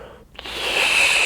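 A voice imitates steam escaping from a tiny radiator relief valve, a short breathy hiss that swells and holds, heard close and alone.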